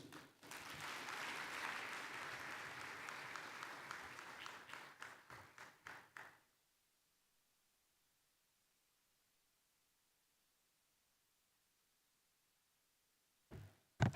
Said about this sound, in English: Another round of applause for Ambassador Mudhaura